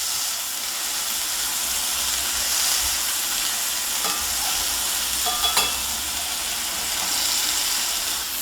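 Flat burger patties sizzle and fry in a pan with a steady, dense hiss, a few brief scrapes and crackles breaking through near the middle as one is flipped.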